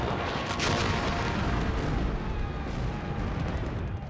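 British 18-pounder field guns fire shells at advancing German infantry at the 1914 Battle of Mons, rumbling booms and gunfire overlapping into a dense, continuous barrage with no pauses.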